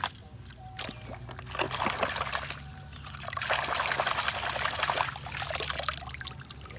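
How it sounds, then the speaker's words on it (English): Water pours and trickles close by in two long splashing runs, a short pause between them, with no one speaking. "before I bring another one I have to put some water"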